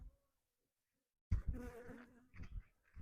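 Agitated honeybees buzzing close by around an opened hive during a spring hive check, a sudden loud burst after near silence that keeps droning and wavering to the end.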